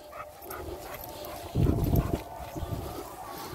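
An American Bully dog whimpers and grunts with short whiny bursts, one louder close outburst in the middle, over quiet background, no clear speech.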